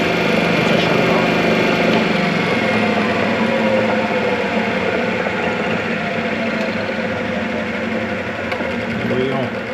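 A John Deere tractor engine running with a Delco Remy generator, giving a loud, steady, continuous mechanical drone and whir recorded close by without letup.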